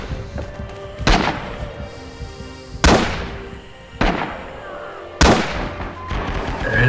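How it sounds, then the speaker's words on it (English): A grenade blasts in the World War II shooter Red Orchestra 2: Rising Storm, among several loud booming explosions spaced about a second apart amid ongoing battle noise. "Watch out, he got a nade."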